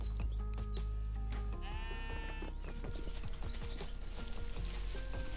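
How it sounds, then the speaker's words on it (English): A ram bleats in a video game, several drawn-out sheep calls over steady game ambience, with clicky hoof-like taps scattered through the scene. "Oh, there's a ram."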